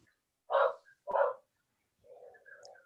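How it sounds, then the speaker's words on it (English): A dog barks twice in quick succession over a phone line, followed by a few softer whimpering or yipping sounds, heard thin and compressed. "Can you hear the dog?"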